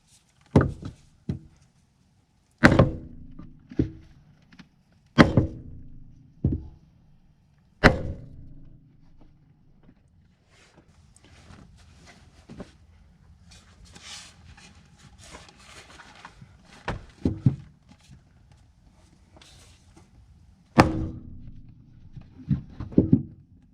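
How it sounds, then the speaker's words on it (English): Heavy 5 kg hammer striking a wood block to drive a shock absorber into place on a Mini R50/R53, about a dozen sharp close knocks in irregular bursts with quiet pauses and faint handling noise between. "We will take a piece of wood, a big hammer, I think it's a 5 kilo one I have here, and try to knock this down a bit."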